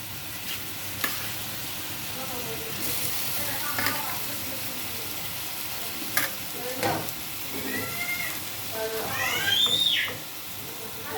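Green beans frying in oil in a pan: a steady close sizzle and hiss with occasional stirring scrapes, while someone talks faintly.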